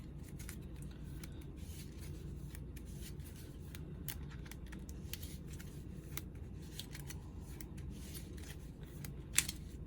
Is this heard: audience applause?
no